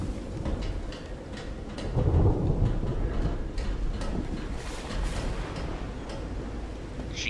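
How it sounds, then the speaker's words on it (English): A rumbling thunderstorm inside the video game Call of the Sea, with steady rain-like hiss and low rolling thunder that swells loudest around the middle, a continuous ambient bed with no talking. "You got storms."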